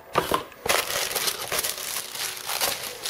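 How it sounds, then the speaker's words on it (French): Glossy paper magazine from a Glossybox beauty box being handled, with a continuous crinkling and rustling of pages that stays close and steady for about three seconds after a brief quiet start, with no talking. "un petit magazine à feuilleter"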